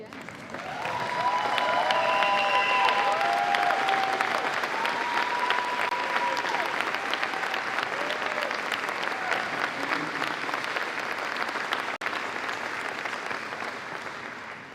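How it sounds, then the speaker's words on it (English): An audience at the opening ceremony of Handball Futures 2026 gives Bill and Frankie Tuck steady, sustained applause for nearly fifteen seconds, with a few cheers and voices mixed into the clapping. "Everyone rise and give a warm round of applause to Bill and Frankie Tuck."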